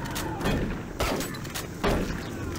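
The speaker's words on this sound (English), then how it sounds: "What's shooting at me?" Gunfire in Doom 3, a few heavy muffled shots and thumping impacts in quick succession, loud and close against a rumbling game background.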